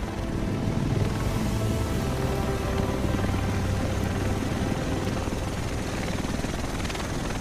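A helicopter arriving in the video game The Division, a loud continuous rotor drone with deep throbbing engine tones that holds steady and close for the whole stretch, with no talking over it.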